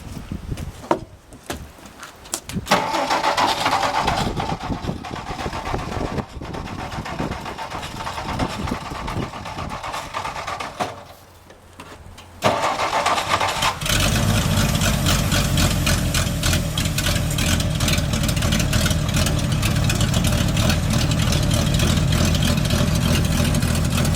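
A 1962 Ford F-350 farm truck engine cranks and sputters, then catches and settles into a steady, loud rumbling idle, with no talk.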